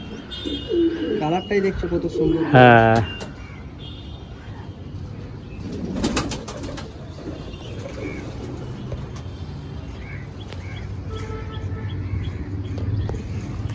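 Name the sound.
pigeons cooing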